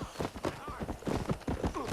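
Horse hooves clip-clopping in Red Dead Redemption, a quick, uneven run of sharp close thuds over a couple of seconds.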